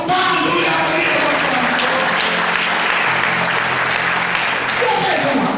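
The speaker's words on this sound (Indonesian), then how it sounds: "Tepuk tangan dulu yang meriah" Loud, sustained applause from an audience at a church sermon, many hands clapping continuously close by for several seconds before it starts to thin out near the end.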